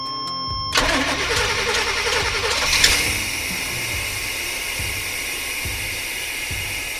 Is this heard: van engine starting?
yes